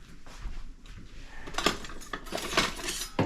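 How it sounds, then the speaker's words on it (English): A whisk stirs flour, sugar and baking powder in a bowl for scones, a few quiet close metallic clinks and scrapes in short bursts against the bowl, with no talking. "You give that a whisk to get it all incorporated"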